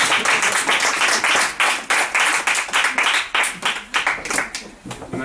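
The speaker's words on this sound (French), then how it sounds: "vous pouvez vous auto-applaudir" A lecture audience applauds after a talk, with dense, steady clapping from many hands that holds loud and close throughout, rising and falling slightly in waves.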